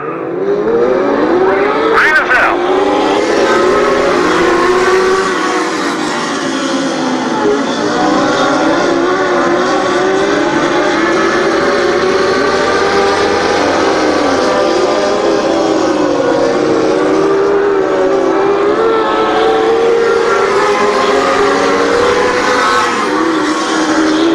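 Race cars at Trail-Way Speedway roar together at the green flag, a loud, continuous pack of engines revving and accelerating, sustained and dense for the whole stretch with no talk over it.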